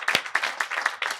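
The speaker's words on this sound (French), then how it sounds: "On applaudit pour Momo." A studio audience claps briefly for a guest on a talk programme, a short burst of scattered, close hand claps in uneven rhythm.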